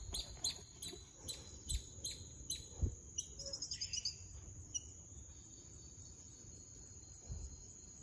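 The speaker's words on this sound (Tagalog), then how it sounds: "Sobrang ganda ng tunog ng ibon dito." Outdoor birdsong of repeated high chirps and short trills in the first half, over a steady bed of cricket buzz that continues throughout, with a few low thumps nearby.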